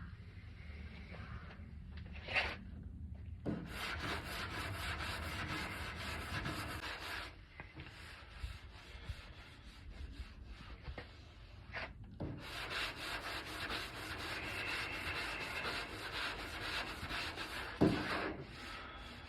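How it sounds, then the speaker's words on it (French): Car body filler being sanded by hand with a sanding block, producing long, steady, close rubbing strokes in repeated passes with short pauses between them and no talk. "En ponçant à la cale, j'ai descendu le premier mastic au départ."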